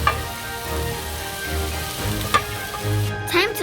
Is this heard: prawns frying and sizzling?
yes